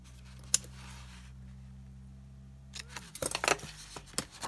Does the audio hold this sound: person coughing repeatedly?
no